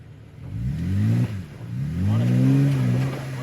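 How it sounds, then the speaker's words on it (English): An off-road vehicle in a forest works over a boulder, its engine revving up in two strong surges and easing off between them, close and fairly loud. "You're gonna hit a boulder right now on the driver's side."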